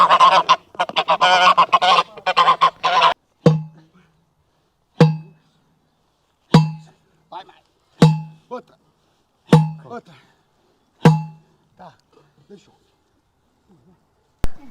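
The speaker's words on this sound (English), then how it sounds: "Look at the geese. Hello, geese." Farmyard geese honk loudly and close by, first a dense run of overlapping calls, then single sharp honks repeating about every one and a half seconds, fading to faint ones at the end.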